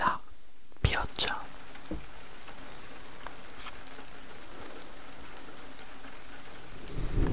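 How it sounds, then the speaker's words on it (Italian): Steady ASMR rain noise runs throughout, a soft continuous hiss with a few sharp close rustles or taps near the start and end, with no talk. "Quindi da adesso facciamo partire la pioggia."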